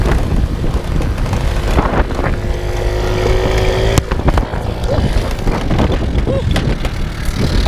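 A dirt bike engine runs close by, a loud rough rumble mixed with heavy wind buffeting on the microphone, steady for several seconds with a sharp knock midway.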